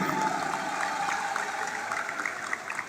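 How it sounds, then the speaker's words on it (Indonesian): Audience applause at a university new-student orientation assembly, a steady, dense round of clapping that fills the hall evenly for about three seconds with no talk over it. "Mari kita beri tepuk tangan yang paling meriah."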